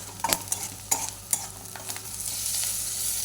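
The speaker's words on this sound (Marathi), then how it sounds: "थोडे हळद टाकायची लाल तिखट तुमच्या आवडीनुसार टाकू शकता दोन मिनटं असं सारखं हलवायचं" Spices and turmeric frying in a pan while being stirred, with several scraping clinks of a spoon against the pan over a continuous close sizzle that grows fuller toward the end.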